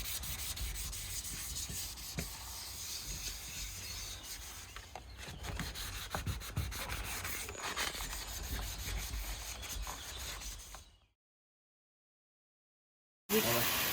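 Steady abrasive rubbing of sandpaper over paint drips on a Peugeot 205 bumper, continuous and close for about ten seconds, then a sudden stretch of silence before the scraping resumes briefly.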